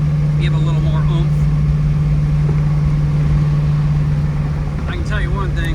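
A 1986 Chevrolet Monte Carlo SS with a 350 engine and 3.73 gears drones steadily from inside the car, a loud, even low engine hum throughout with faint road noise.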